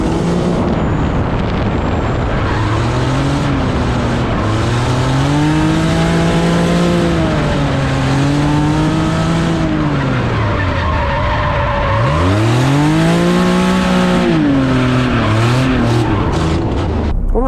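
A Nissan 370Z drifts around a wet track, its engine revving up and down in long sweeping pitch swells with tire skid noise layered on top, loud and close throughout.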